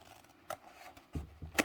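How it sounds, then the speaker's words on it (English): Thread scissors cut fabric for the zipper box of a tote bag, giving a few faint, quick snips close by in a quiet room. "you can use your scissors to cut"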